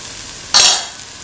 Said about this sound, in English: put in the ground mint, fennel-coriander mixture